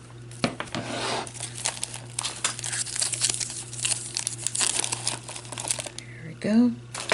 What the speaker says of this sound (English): you might kind of want to pick up some of the paper shreds with your scissors.